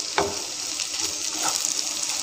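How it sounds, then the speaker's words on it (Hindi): Boiled, hand-mashed potatoes with onions frying and being stirred in a pan, a steady close sizzle with soft scraping, no talking. "तो प्याज के साथ आलू को भी कुछ सेकंड के लिए भून लेंगे।"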